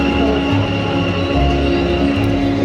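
A Bengaluru metro train rumbles steadily nearby at peak hours, with a loud low drone and constant mechanical hum throughout.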